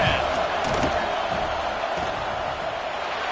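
Stadium crowd in a college football video game, a steady loud roar of many voices as the field goal unit lines up on fourth down, sustained and dense throughout with no single voice standing out.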